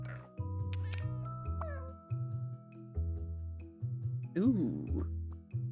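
A pet cat meows several times in close succession, near and fairly loud, with a drawn-out, wavering call near the end, under steady background music and a person talking.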